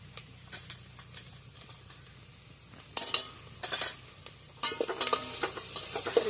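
Food with turmeric stirred while frying in a pan: a soft, close background sizzle broken by bursts of louder scraping and clattering stirring strokes, intensifying toward the end.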